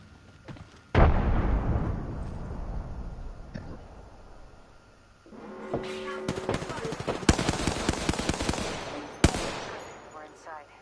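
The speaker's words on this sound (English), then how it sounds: "Throwing frag." Frag grenade blast in Apex Legends, a sudden loud boom with a long rumbling tail, followed later by rapid bursts of automatic gunfire and more sharp cracks in a heated firefight.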